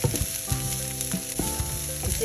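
Onions frying in hot cooking oil for a mango chutney, a loud continuous sizzle with quick stirring clicks and scrapes close up, alone with no voices.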